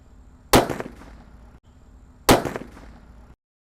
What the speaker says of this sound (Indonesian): Mercon yang ketiga yang kita nyalakan di sini adalah Colorful Sweater guys